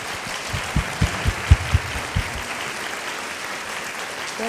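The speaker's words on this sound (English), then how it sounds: "Can we just give her one more round of applause," A lecture-hall audience gives a round of applause for a distinguished speaker, with a few louder, closer claps standing out early against a broad wash of clapping that thins toward the end.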